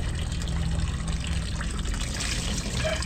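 Water runs continuously at a home laundry spot, a steady splashing gush filling the space at close range.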